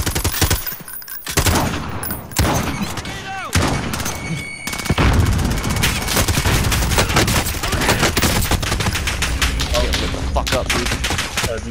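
Heavy gunfire in Call of Duty: Modern Warfare, dense bursts and single shots crackling almost nonstop at close and middle range, loud throughout with a few brief lulls early on.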